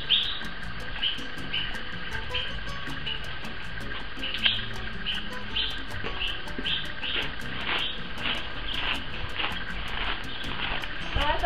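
Many birds chirp and tweet all around a guesthouse room, a steady layer of bright, overlapping calls at moderate distance with a faint continuous background hum.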